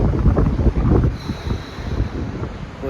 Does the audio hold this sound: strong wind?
yes